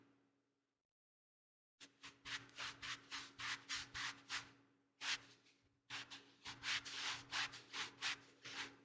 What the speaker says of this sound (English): Wow, there's a lot more dirt than I expected. I really have to scrub.